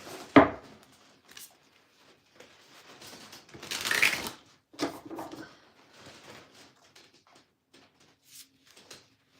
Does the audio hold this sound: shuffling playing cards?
yes